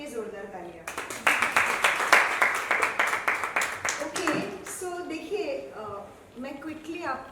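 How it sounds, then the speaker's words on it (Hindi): Loud applause and clapping from an audience of women at a women entrepreneurship celebration, with dense hand claps swelling for several seconds before fading under a presenter's voice, whose talk continues over the tail. "सारे men के लिए जोरदार तालियां"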